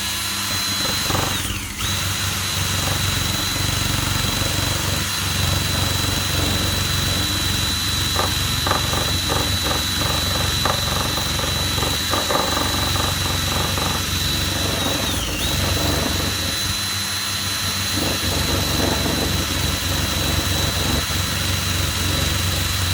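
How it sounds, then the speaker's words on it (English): An electric drill fitted with a buffing attachment whirs steadily as it polishes old brass pipe, a loud, constant motor drone with brief pitch dips where the load changes. "I did buy a couple of buffing sets for my drill, so yeah, let's give it a go."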